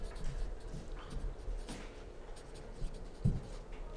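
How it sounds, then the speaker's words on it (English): Quiet scratching of a pen writing small on paper, soft and close, with faint irregular strokes over a few seconds and no talk. "So let me try to write that quite small."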